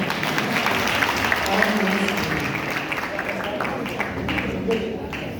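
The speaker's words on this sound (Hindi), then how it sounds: "संजय भैया के परिवार के लिए और एक बार आप सब अपने लिए ताली बजाएं।" Audience clapping during a Jain religious gathering in India: a sustained wash of applause from a crowd, moderately loud and even throughout, with voices mixed in underneath.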